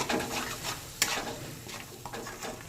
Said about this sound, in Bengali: এবার নেড়ে ভালো করে সব মিশিয়ে নেব